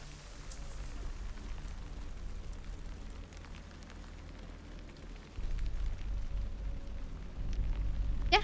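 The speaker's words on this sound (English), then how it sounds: "It's raining." Steady rain falls in the video game Alan Wake 2, a constant hiss with a low rumble that swells louder partway through.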